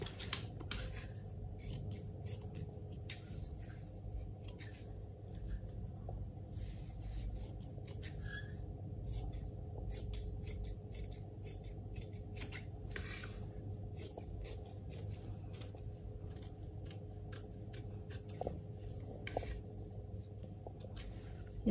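Scissors snipping through blouse fabric, a long run of repeated close, crisp cuts at an uneven rhythm, fairly quiet with no talking.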